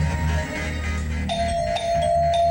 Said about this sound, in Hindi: अरे इतनी घंटी क्यों बजा रहे हो भाई?